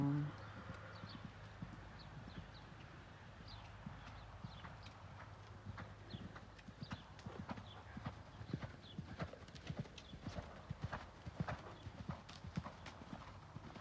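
A thoroughbred being ridden makes a steady, rhythmic clip-clop of hooves, moderately close and fairly faint, continuing throughout while people talk over it.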